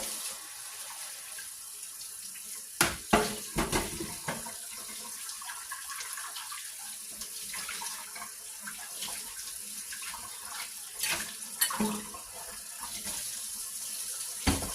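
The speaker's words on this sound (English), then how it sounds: "Pardon me as I rinse behind you." A kitchen faucet runs steadily for several seconds while dishes are rinsed in the sink, giving a continuous splashing hiss with a few clattering knocks and bumps close by.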